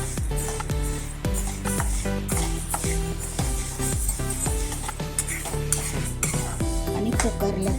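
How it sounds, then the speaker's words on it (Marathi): Moong dal roasts in a pan while a spoon scrapes and stirs it in repeated strokes, metal clinking against the pan close by over a faint dry sizzle. "अशी डाळ भाजायची."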